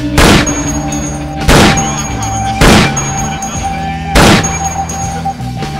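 Gunshots in a film trailer: four loud, booming blasts spaced a second or more apart over a sustained tonal music bed, close and forceful, with no speech.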